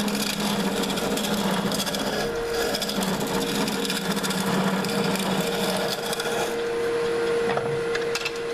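A cork fly rod grip spins on a lathe while being turned, giving a steady whirring drone with a raspy, scraping cut layered over it, close and continuous throughout.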